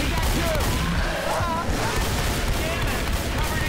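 Continuous gunfire from a Left 4 Dead 2 match, dense and loud throughout, with a steady barrage of shots layered under faint player chatter.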